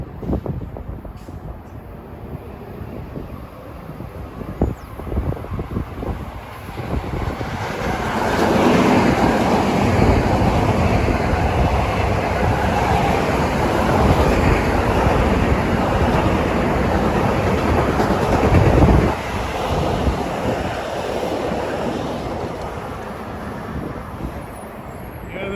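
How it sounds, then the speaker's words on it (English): An LIRR westbound train from Babylon to New York passes Rosedale station, building from a distant rumble to a loud, sustained roar and rail clatter that peaks mid-passage and then fades, with brief talk early on. "Comes westbound train 107 from Babylon to New York."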